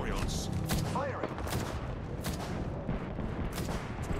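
Dense, continuous gunfire in a video game, rapid overlapping shots and booms filling the whole stretch, loud and unbroken, with voices faintly under the din.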